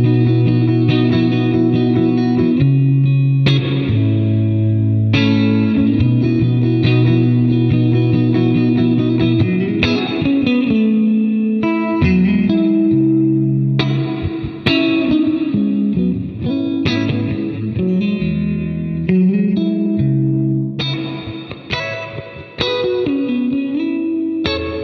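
Electric guitar played through distortion and chorus effects with reverb, strummed chords and sustained notes ringing out loud and alone, with no talking.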